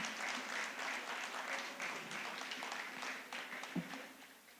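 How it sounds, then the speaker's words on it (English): Steady applause from a large audience at a graduation ceremony, a dense even wash of clapping lasting several seconds, fairly distant and moderately quiet. "Could we hear the thunders of applause one more time"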